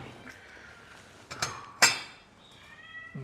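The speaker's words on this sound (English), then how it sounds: "these are stray cats, but then we try to feed them whenever we can" Stray cats meow a few times, with a sharp louder cry in the middle, alongside light clinks of dishes in a quiet room.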